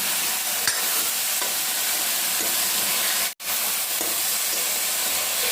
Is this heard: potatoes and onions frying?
yes